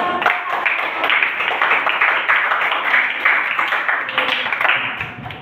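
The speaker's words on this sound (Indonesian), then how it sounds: "berikan tepuk tangannya untuk" A classroom of students claps together, dense and bright applause that holds steady at a fairly close, loud level for about five seconds and then tapers slightly near the end.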